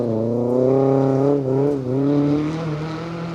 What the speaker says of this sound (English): We can just about make out the MG it's just gone through.